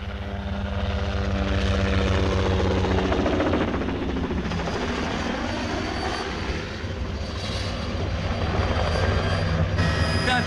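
A civilian helicopter's rotor thumps and engine whine fill the air continuously, loud and close as it passes low overhead.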